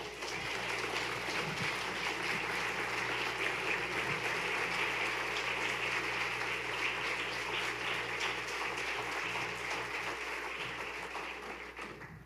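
A church audience applauds the introduction of a reverend, a dense, sustained wash of many hands clapping at an even, loud level throughout, fading only slightly at the end with no talk over it.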